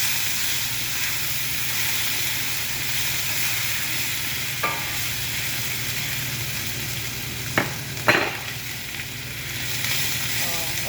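Garlic and ginger fry in a pan with a steady, close sizzle throughout, broken by a few brief clinks of a utensil near the end.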